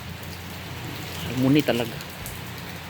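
Heavy rain outside a house in South Korea, a steady soft hiss of rainfall continuing under a woman's brief speech.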